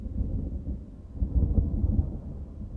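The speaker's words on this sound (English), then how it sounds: "There's thunder in the game." Deep, low rumbling thunder from a video game storm, rolling steadily and swelling slightly midway, loud and sustained with no voices over it.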